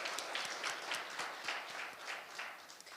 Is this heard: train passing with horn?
no